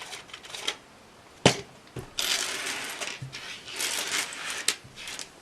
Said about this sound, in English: I'm going to unscrew all the sleeves and then show you what's inside of them